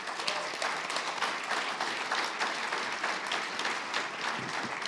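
An audience at a business breakfast gives a sustained round of applause, dense and even throughout.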